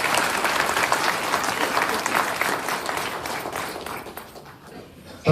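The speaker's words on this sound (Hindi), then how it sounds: "तालियां।" Loud, sustained applause from party workers at a political gathering in Delhi after an election loss, dense clapping filling the hall for about four seconds before thinning out.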